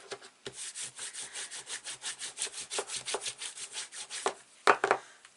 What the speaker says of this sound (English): Just give that a good burnish.